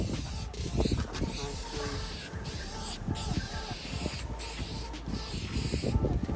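Steady hiss of spray paint laying a thick final coat onto a custom transport wheel, continuous and fairly close with slight pulses as the can sweeps around the outer ring.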